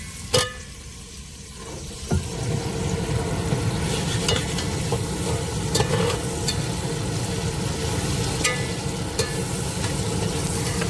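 Cumin and mustard seeds fry and are stirred in a pan aboard a fishing boat at sea, giving a steady close sizzle with occasional sharp metallic clinks and scrapes of the spoon, and an engine-like rumble underneath.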